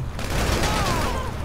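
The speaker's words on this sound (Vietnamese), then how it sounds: "Bắn súng đồ quá đã luôn anh em ơi." Rapid machine gun fire from the video game GTA 5, a dense, loud burst of shots crackling continuously on a city street.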